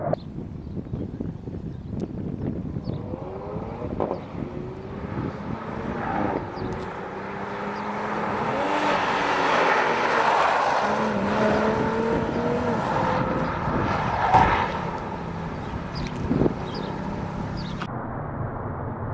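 A heavy BMW driven on a race circuit at Dreux during a Bridgestone Potenza Sport tyre test, its engine heard from inside as a continuous rising and falling drone with gear-shift dips, no talking.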